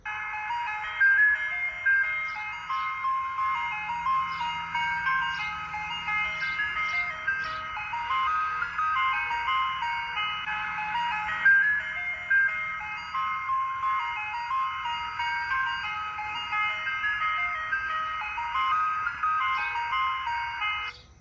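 A Boom Blasters wireless electronic horn, wall-mounted by a battery box, loops a bright, repeating jingle melody, loud and steady throughout with no talking over it.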